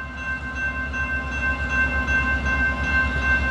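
A CSXT freight train rumbles past close by, a steady low roar of engines and rolling cars with a sustained tonal hum, continuous and fairly loud throughout.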